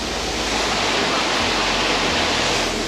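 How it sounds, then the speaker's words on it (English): Waterfall rushing loudly and steadily, a dense continuous roar of falling water close by with no pauses. "We're at the waterfall."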